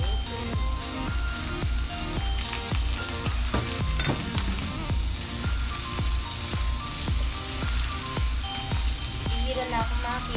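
Broccoli frying in a hot pan gives a dense, steady sizzle that runs the whole time beneath loud, rhythmic music with a regular beat.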